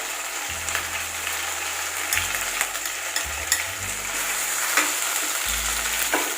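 Chicken pieces sizzle steadily in a pan of hot butter and oil, with a continuous crackling fry and occasional stirring scrapes and low knocks.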